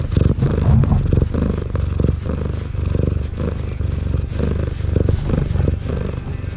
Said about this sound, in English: That is the actual sound of Ryoga purring into the microphone while headbutting it.